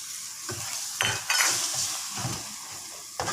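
Tamarind water poured into egg sambal frying in a pan, giving a bright hissing sizzle with a few soft stirring clinks and bumps of the utensil.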